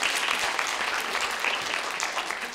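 An audience at a Gyeongbuk education office town hall meeting in Sangju breaks into applause, a steady wash of many hands clapping evenly throughout, moderately loud and without pause.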